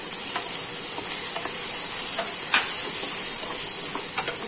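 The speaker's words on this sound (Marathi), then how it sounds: "टोमॅटो, अद्रक लसूण चांगलं परतून झालं की टोमॅटो टाकूया" Ginger, garlic paste and tomato sautéing in a pan for bitter gourd bhaji, a steady loud hissing sizzle with a few light scrapes of stirring scattered through it.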